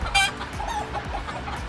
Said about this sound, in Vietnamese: Rồi giờ quay sơ mấy gà tơ cho anh em ăn.